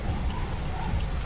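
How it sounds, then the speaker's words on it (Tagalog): Heavy rain pours down in a steady, dense hiss with a low rumble, loud and unbroken for the whole moment. "Lakas ng ulan"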